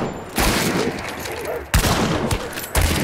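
Gunfire in the video game Hunt: Showdown: three loud, sharp shots at irregular intervals, each ringing out with a broadband crack and lingering echo, with faint game ambience and a little speech underneath.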